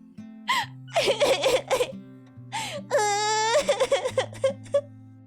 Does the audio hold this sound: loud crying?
yes